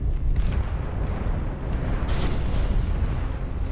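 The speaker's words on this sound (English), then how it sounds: "Artillery strike activated" Artillery strike explosions in the video game MechWarrior Online: loud, continuous rolling booms and deep rumbling blasts that pile up without a break, with a few sharper bursts on top.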